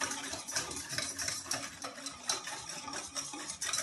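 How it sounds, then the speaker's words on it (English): Milk and sugar whisked in a bowl for hot cross buns, a steady rapid ticking of metal whisk against the bowl, close and continuous, with no talking. "Whisk it some more"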